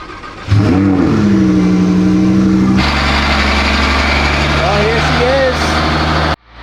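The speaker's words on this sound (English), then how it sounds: "Next startup, twin turboed Lamborghini Huracan." A twin-turbo Lamborghini Huracan fires up with a sharp starter whine, settles into a steady droning idle, then shifts to a louder, fuller rumble with brief blips before cutting off abruptly, close and loud.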